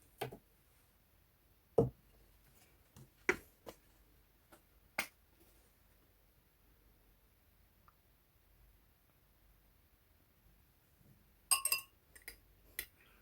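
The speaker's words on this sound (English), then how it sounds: "Stir it in well." A spoon stirs honey into garlic tea in a glass, making sparse, quiet metallic clinks against the glass with long silent gaps and a brief cluster of taps near the end.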